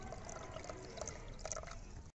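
Water is poured steadily into a container holding malai kulfi moulds, a quiet, continuous trickling and splashing that runs for a couple of seconds and then stops abruptly.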